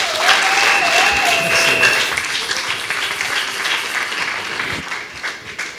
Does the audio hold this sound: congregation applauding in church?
yes